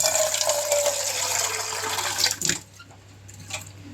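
Water is poured into a cooking pot to be boiled for making homemade selroti, a steady close splashing fill that cuts off partway, followed by quieter drips and clinks.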